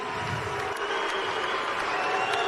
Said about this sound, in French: Combat, messieurs, dames. Magnifique. J'applaudis.